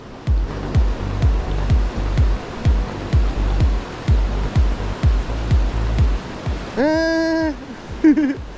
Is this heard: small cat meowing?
no